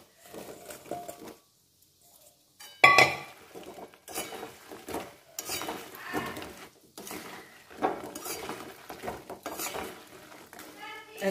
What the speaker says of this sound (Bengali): বন্ধুরা, আমি এবার রসে এগুলো দিয়ে দিচ্ছি।